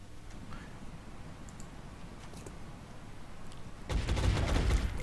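Burst of gunfire in the strategy game XCOM: Enemy Within, a sudden loud crackling volley near the end after a stretch of quiet low ambient rumble.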